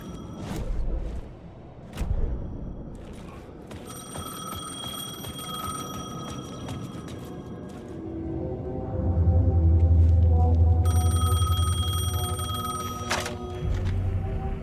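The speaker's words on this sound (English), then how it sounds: "payphone was ringing" Payphone ringing in the video game Alan Wake 2, repeated metallic bell rings in bursts over eerie low ambient drones and occasional thuds.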